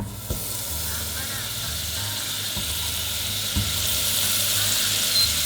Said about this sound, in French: je vais prendre une casserole et je vais d'abord faire fondre mon beurre.